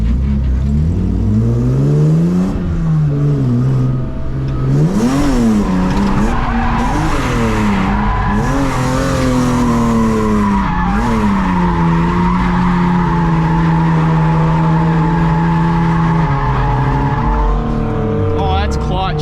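A BMW E36 drifting with its engine revving hard and tires skidding and squealing continuously, rising and falling pitch sweeps throughout, loud and close, with no talk during the slide.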